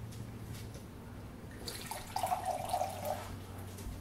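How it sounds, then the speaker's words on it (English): Wine poured from a bottle through a Chef Karen aerator pourer into a glass, a steady liquid trickle and splash lasting about a second, fairly close and moderately loud over a low background hum. "I'm going to show you the difference between pouring wine regularly and using the Chef Karen Wine Aerator and Pour"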